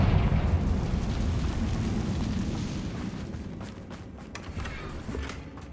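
A Confringo blasting spell in Hogwarts Legacy detonates with a loud, deep boom right at the start, then rumbles and crackles as it slowly dies away, with scattered debris-like pops near the end.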